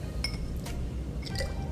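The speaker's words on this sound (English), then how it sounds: "carefully place the egg" An egg is set into a tall drinking glass about three-quarters full of water, giving a few light, glassy clinks spread over a quiet moment.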